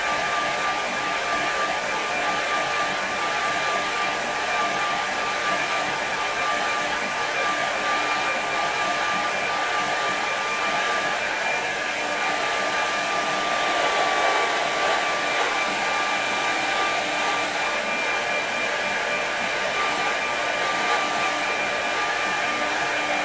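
A hair dryer blows steadily on a watercolour coastal painting for a quick dry, a loud, constant whirring roar with a faint whine that holds unbroken throughout, with no talking.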